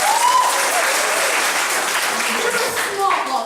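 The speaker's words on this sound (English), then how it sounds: "So down here we do a little clap," A crowd of university freshers claps together at a comedy show, dense and steady, loud and close for a few seconds, with a voice briefly heard over the noise.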